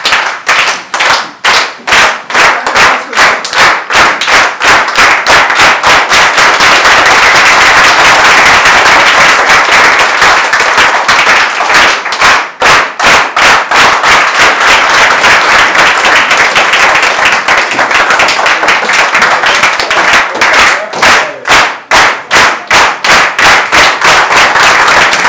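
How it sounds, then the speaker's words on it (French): Loud, sustained clapping from a standing audience at a formal event welcoming a senator, dense and continuous for roughly twenty-five seconds, with rhythmic claps standing out near the start and end and no talk. "Vous allez applaudir jusqu'à dimanche là."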